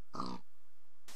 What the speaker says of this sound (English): I see pigs. Some more pigs.